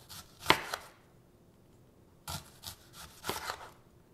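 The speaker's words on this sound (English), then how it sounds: "So I'm gonna slice up some lemon or some onions here real quick." A knife thinly slicing onions on a cutting board, a few quick crisp cuts near the start, then a short pause and another burst of several light chops, close and fairly quiet.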